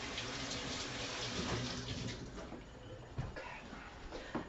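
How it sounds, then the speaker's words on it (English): Kitchen tap running as hands are rinsed under the water, a moderate steady flow with splashing that eases off partway through, followed by a few small knocks. "let me rinse my hands."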